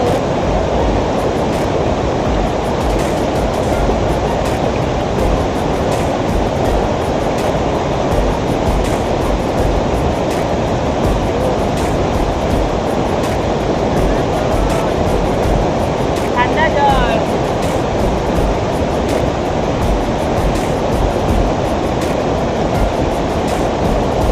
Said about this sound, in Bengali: এখানে জলের স্রোত দেখো